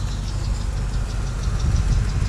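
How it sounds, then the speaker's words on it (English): A 30 horsepower Kehoe grain bin aeration fan runs with a steady, heavy low rumble and constant roaring drone beside a grain storage bin, loud and unbroken. "here is our 30 horse Kehoe air pump. These things sound like a jet engine taking off"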